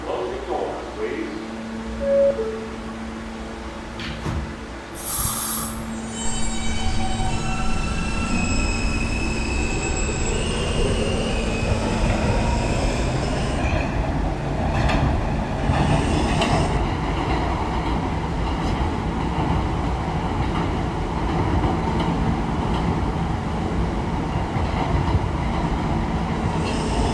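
An R160A subway train on the K line pulls into Union Turnpike, wheels squealing and screeching loudly along the rails with rising and falling tones, rumbling underneath as it slows, preceded by a brief announcement chime.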